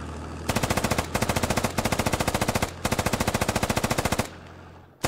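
Machine-gun fire in the Squad video game: several long, rapid automatic bursts of loud, close shots separated by brief pauses, ending in silence and one final sharp report, with no talking.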